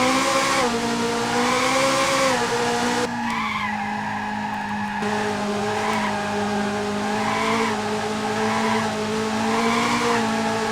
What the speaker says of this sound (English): So this looks pretty good for a Sega Dreamcast game.